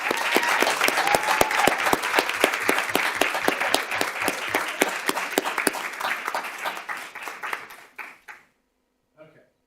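Sustained applause from a school board meeting audience congratulating a competitive cheer team, loud and steady with dense clapping for about eight seconds before stopping abruptly, followed by a few faint taps.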